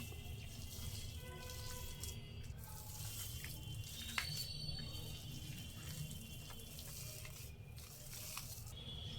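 Running water splashes into a sink as hands are washed under a tap in a kitchen while making chicken shami kabab, a steady close wash with small drips and squishing.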